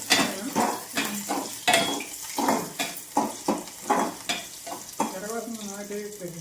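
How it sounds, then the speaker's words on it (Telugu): Ginger frying in a pan for an idli side dish, with a steady sizzle broken by a quick run of sharp spatula scrapes and clinks against the metal, close and fairly loud. "అల్లం ఇలాగా ఫ్రై అవుతుంది కదండి"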